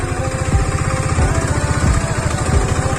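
A motorcycle engine idles close by while the bike is being parked, with a steady low, rapid putter and slight rhythmic surges. It is loud and no one speaks over it.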